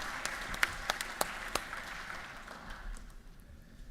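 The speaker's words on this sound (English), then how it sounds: "Let's give them a round of applause." Members of a state legislative session clapping in a short round of applause, a moderate patter with a few sharp individual claps that fades out after a few seconds.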